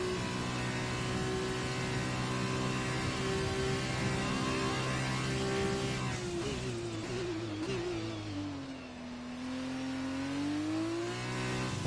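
A Formula 2 car at Interlagos in a racing video game holds a steady, buzzing engine note, then drops and dips through gear changes and braking before climbing again, continuous and close with no talking.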